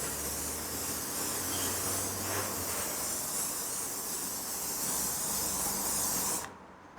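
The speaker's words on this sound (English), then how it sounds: "make sure when you put the hairspray on, you're spraying away from the area that you're working in" A long continuous hiss of cheap hairspray being sprayed, steady and close, for several seconds before cutting off abruptly.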